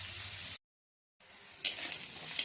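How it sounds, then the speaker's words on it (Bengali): Chopped onions with nigella seeds sizzle in hot oil with a close, steady hiss, broken by a short silent gap before the frying resumes a little louder. "পেঁয়াজ কুচিয়ে দিলাম, দিয়ে কালো জিরে দিয়ে এটাকে ভেজে নিই।"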